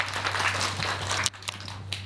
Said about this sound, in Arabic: تصفيق على سناء.